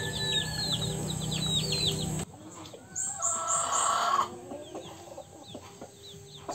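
A pet chicken that has been unable to walk clucks and calls close by, with wild birds chirping in the background and a louder burst of clucking partway through.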